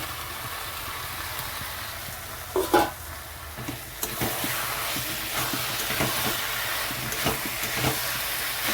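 Chicken stir-fried in a hot pan gives a steady close sizzle and hiss, with the scrape and clatter of a stirring utensil coming in bursts over the frying. No one talks.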